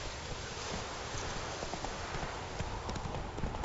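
Hooves of Roach, the horse in The Witcher 3, pounding in a steady gallop, quiet and soft under a hiss of wind and rushing air, with no voices heard.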